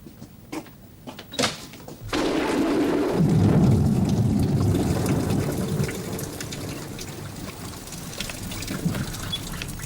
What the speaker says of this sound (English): The storm will have moved on by this evening.